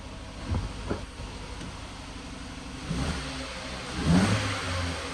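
A running car engine with its engine warning light on rumbles at a steady idle, with short revving surges near the start, in the middle and toward the end.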